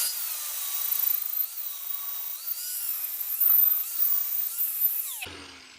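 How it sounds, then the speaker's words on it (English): A flap disc grinder strips powder coat from a steel utility trailer down to bare metal, a steady high-pitched whine with slight wavering pitch for about five seconds, then cutting off abruptly as the tool winds down. "now we got to take the flat disc, we got to get some of this powder coat off so that we can get down to the bare metal"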